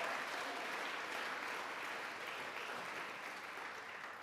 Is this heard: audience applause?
yes